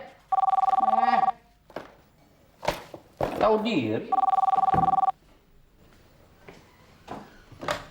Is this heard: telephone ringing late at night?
yes